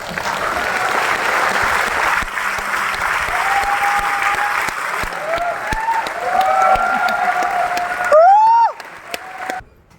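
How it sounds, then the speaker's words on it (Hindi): An audience at a business-plan seminar claps in a dense, steady burst of applause that tapers off near the end, giving way to a few voices and scattered claps. "ताली क्यों बजा रहे हैं?"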